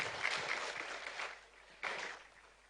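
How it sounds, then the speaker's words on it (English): Quiet applause from an audience at an investigative journalism award ceremony, fading gradually and then briefly swelling again before trailing off, heard from a distance. "Another round of applause for her, please."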